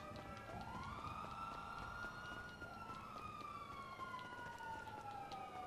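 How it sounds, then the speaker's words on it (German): Police siren in the GTA Online video game, a continuous wailing tone sweeping up and down twice, steady and fairly loud with no talk over it. "Ich kann diese Sirene nicht mehr."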